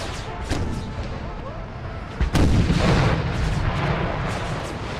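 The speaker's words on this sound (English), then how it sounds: "A bayonet charge uphill into artillery fire." Artillery fire from a Civil War battle video game at Gettysburg: a sharp heavy boom strikes midway, followed by rumbling blasts and scattered gunfire over continuous battlefield noise.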